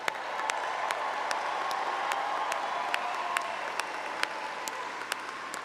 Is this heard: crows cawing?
no